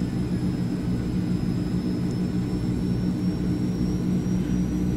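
Aircraft engine droning in Microsoft Flight Simulator aboard an AzurPoly C 160 as its engines shut down, a loud, steady, continuous low hum with a faint high whine above it, no voices.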